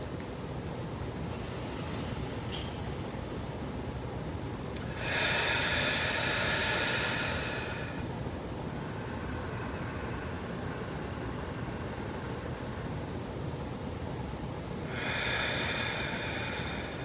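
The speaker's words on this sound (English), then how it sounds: "close your eyes and take 3 nice, long, slow, deep breaths" Long, slow, deep breaths during a morning yoga routine, heard as soft close airy exhalations that swell and fade at spaced intervals over a steady background hiss.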